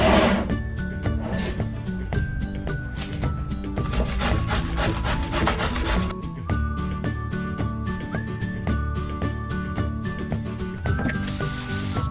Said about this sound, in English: I finished grating my zucchini